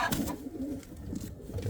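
Pigeons coo in a breeding loft with nest boxes, a soft, low, throaty murmur that continues steadily and close by, with no talking.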